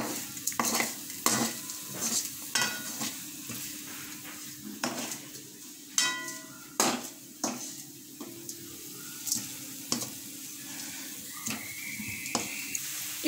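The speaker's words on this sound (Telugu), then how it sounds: "ఇప్పుడు దీన్ని మిక్స్ అయ్యేలా కలుపుకుందాం" A spoon stirring garam masala through paneer curry in a pan, with a series of scraping, clacking strokes against the metal over a soft sizzle, fairly close and rhythmic.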